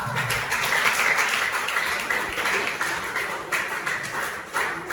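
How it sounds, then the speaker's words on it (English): Audience applause at a Nigerian event distributing One Health textbooks to secondary school students, a steady, moderately loud wash of clapping that lasts throughout with slight surges near the end. "please a round of applause for her"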